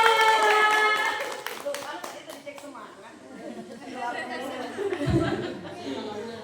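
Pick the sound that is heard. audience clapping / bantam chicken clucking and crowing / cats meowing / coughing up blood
audience clapping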